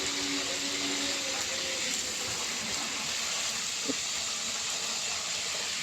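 Cauliflower florets frying in hot oil in a wok (kadai), a dense continuous hiss and sizzle that stays loud and even throughout, with no voices.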